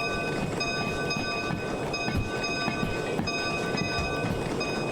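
A steady, repeating locomotive bell rings over the continuous rumble of a passenger train in Derail Valley, clanging at an even pace throughout.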